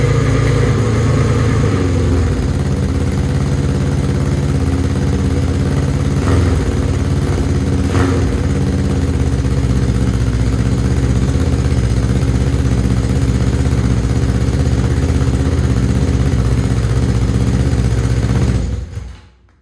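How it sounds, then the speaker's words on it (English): A cafe racer motorcycle engine idles loudly with the chokes on, a steady, close, continuous rumble that holds for about nineteen seconds before cutting off abruptly at the end, with no talking. "The bike is finally up and running"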